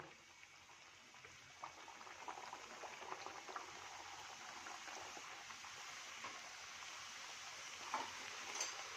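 Farsi puri deep-fry in hot oil, giving off a faint, steady bubbling and gentle crackle with occasional small pops, heard close and alone.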